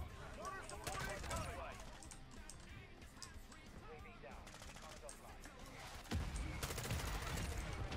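Rapid bursts of gunfire and a fusillade from the video game Modern Warfare II crackle densely throughout, with excited voices talking over the shooting.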